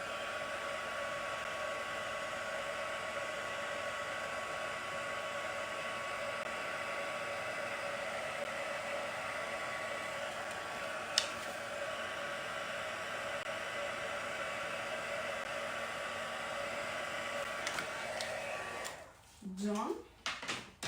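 A heat tool blows steadily to warm heat-and-stick gilding adhesive until it turns tacky, a constant airy roar holding for most of the stretch before it cuts off near the end with a few handling knocks.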